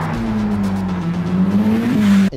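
A Ferrari F8 Tributo sports car accelerates hard, its engine a loud, steady, close drone that climbs slightly in pitch before cutting off abruptly.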